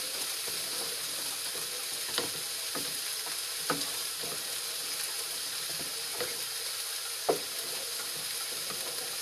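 Side dishes frying in a pan as they are stirred during home supper cooking, a steady sizzle with a few sharp utensil scrapes and clinks standing out at intervals, close and without talk.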